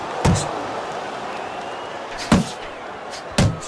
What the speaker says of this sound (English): A good counter punch by Crusher.